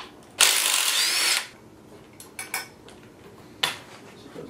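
A ratchet loosens the lower 12 mm brake caliper bolt on an XSR700 motorcycle: a one-second burst of rapid metallic clicking up close, followed by a few short scattered clicks and clanks.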